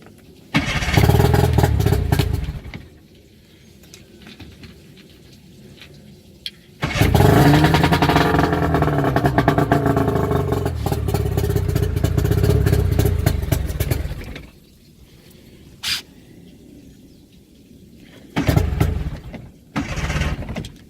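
An outboard boat motor cranks and fires with throttle and choke, running loudly for several seconds in bursts with quieter gaps between attempts, followed by further short restarts and sputters.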